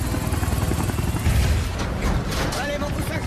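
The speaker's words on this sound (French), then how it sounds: "Oh oui, cet hélicoptère n'a pas de queue." Helicopter rotor thumping steadily through an action-film scene, with a low rumbling drone that swells briefly midway, and voices talking over it.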